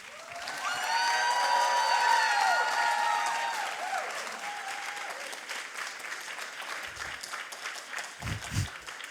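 An audience at a science slam applauds a speaker, a full burst of clapping with a few whoops that swells, then thins to scattered claps over several seconds.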